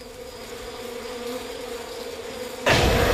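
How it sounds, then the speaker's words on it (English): A swarm of bees buzzes in a cartoon, a steady droning hum that suddenly jumps louder and harsher near the end, with no talk. "Oh, bees!"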